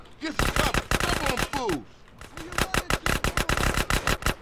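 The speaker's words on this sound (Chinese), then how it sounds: "我已经听到枪声了，好像在打 BB 弹了。" Gunfire during a gang fight in the video game GTA San Andreas, dense rapid bursts of loud close shots in fast repeating rhythm, with a voice speaking briefly near the start.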